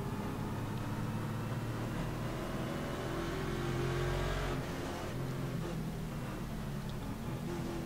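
A race car in a sim racing series at Road America drones with a dense, steady engine roar, swelling briefly near the middle before settling back, with no voices present.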